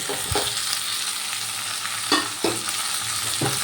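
Chicken pieces fry in a pan for a chicken stew, giving a constant sizzle. A spoon scrapes and stirs in several separate strokes, one near the start and three more close together toward the end.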